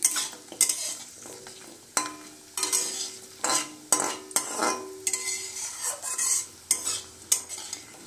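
Homemade lentil dumplings (bori) are stirred in hot oil in a pan, a spoon scraping in repeated strokes over a soft background sizzle, close and without talk.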